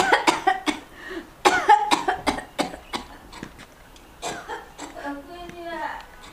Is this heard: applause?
no